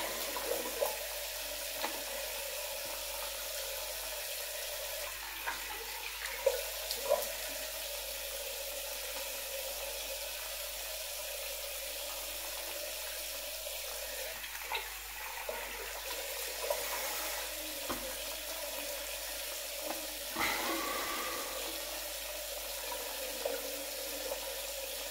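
Cold tap water runs steadily from a faucet into a sink, a constant close wash of sound with faint clinks on top.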